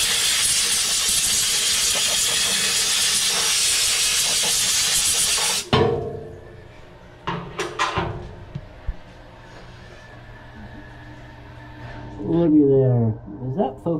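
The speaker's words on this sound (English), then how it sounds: "And then we'll give her a blow dry." Loud, steady blast of compressed air blows a freshly rinsed machined jig part dry on an MR-1 mill for about six seconds, then cuts off abruptly, leaving quieter clanks, machine noises and brief talk.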